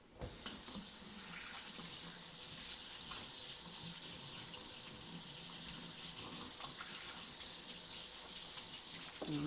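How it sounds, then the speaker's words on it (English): Hands are rinsed under a running kitchen faucet, giving a steady, close, continuous stream of water splashing into the sink throughout. "while I rinse my hands off"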